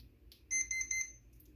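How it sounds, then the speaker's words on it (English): Three quick, high-pitched electronic beeps in an even rhythm come from a Hobbywing QuicRun 1080 G2 brushed ESC fitted in a CEN F-450 Dually RC truck during setup, heard up close over low background noise. "3 beeps. That is set for reverse."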